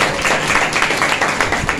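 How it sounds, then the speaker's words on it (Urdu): A church congregation at a Sunday service claps loudly together, a dense, continuous burst of applause heard close and without speech. "اپنے استحقاق کے لیے زوردار تالیاں لگائیں۔"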